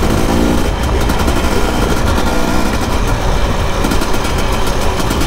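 A brand new 300 two-stroke dirt bike ridden over dusty terrain, a loud close engine drone with rapid fluttering pulses that continues without a break throughout.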